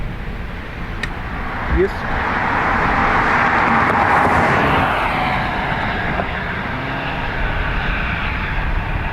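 An ATR turboprop taking off from Dublin Airport runway 28 right, a loud engine roar that builds and peaks midway before easing to a steady drone, with a short spoken word at the start.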